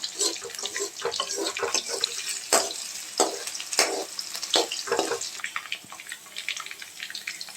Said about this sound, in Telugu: potato and carrot pieces fry అయ్యే వరకు ఒక 2 to 3 మినిట్స్ మిక్స్ చేయాలి బాగా